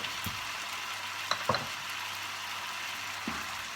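Tomato sauce in a pan sizzles and bubbles quietly and steadily, with a few soft clinks of a utensil stirring, and no talking.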